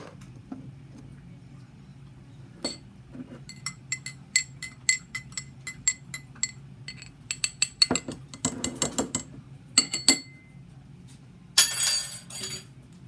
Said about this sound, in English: We're gonna mix our solution.